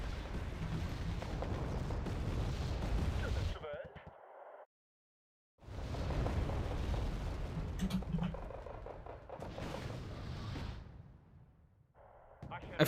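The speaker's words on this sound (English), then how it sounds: "Look at this mortar spam" Mortar barrage explosions in Wargame: Red Dragon rumble as heavy, sustained booms in long waves, broken by a short silent gap, with someone talking over the bombardment.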